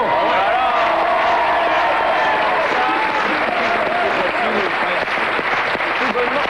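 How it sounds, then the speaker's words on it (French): Studio audience applause fills a French TV game show set, a dense steady roar of clapping held loud throughout, with a host's voice talking over it. "Sous les applaudissements, s'il vous plaît"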